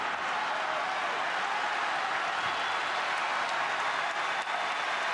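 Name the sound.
crowd applauding at a tennis match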